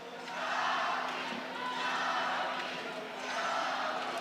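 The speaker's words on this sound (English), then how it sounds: "Fans cheering Capi," Fans at a Kings World Cup football match cheer and chant for Capi in rhythmic waves of crowd noise, swelling and easing three times at moderate loudness from a distance.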